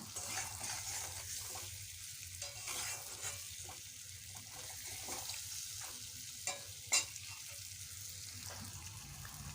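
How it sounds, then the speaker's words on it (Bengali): Potato pieces fry in oil in a pan for an egg or meat-style curry, with a continuous soft sizzle. Occasional stirring scrapes and a couple of sharper clicks come through near the end, all fairly quiet. "কষিয়ে নেব ভালো করে আলুটাকে, যতক্ষণ না তেলটা বেরোয়"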